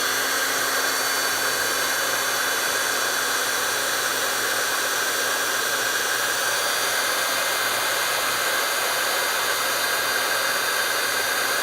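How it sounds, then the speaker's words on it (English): A handheld heat embossing tool blows hot air over a stamped craft card, a loud steady close whooshing roar with a constant motor whine that continues unbroken throughout. "I'm just going to come in with my heat tool and heat this up."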